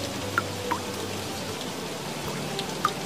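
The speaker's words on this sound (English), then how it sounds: "Rain." Steady rainfall hisses evenly throughout, with a few distinct droplet taps standing out against the continuous wash.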